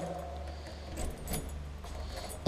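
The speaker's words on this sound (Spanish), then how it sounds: "Es que las llaves entran, pero no giran." Keys jangle and scrape while someone tries an old, rusted lock on the door of an abandoned cinema, a faint metallic rattle over low background hum.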